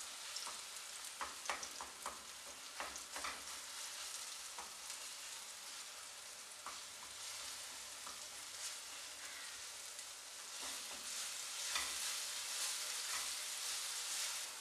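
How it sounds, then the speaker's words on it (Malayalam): Coconut filling is mashed in a pan with jaggery-sweet banana stuffing for idiyappam nearby, a soft steady sizzle with irregular light taps and scrapes of the utensil, growing slightly louder toward the end. "നന്നായിട്ടൊന്ന് ഉടച്ചു കൊടുക്കുക."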